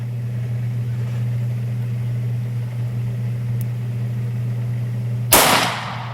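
A single loud, sharp report from a Ruger LCR .357 Magnum revolver firing a 100-grain .38 Special +P expanding bullet cracks out after several seconds of steady low hum, then quickly fades.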